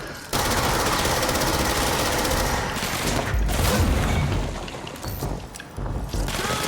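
Sustained automatic gunfire from a weakly upgraded machine gun in the video game Control, a dense continuous rattle with booming impacts, loud and close throughout with a brief dip near the middle.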